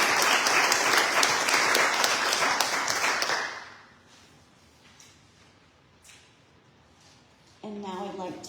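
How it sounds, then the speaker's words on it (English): A church congregation at a 40th anniversary fellowship service breaks into loud, dense applause for about three seconds, then it fades to quiet room noise before a voice speaks. "So let's give Deb an applause."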